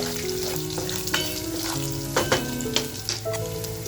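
Garlic sizzles steadily in hot oil in a pan, prepared for a spicy dum-style chicken masala, with a few louder crackles and utensil scrapes over a continuous frying hiss and soft background music tones.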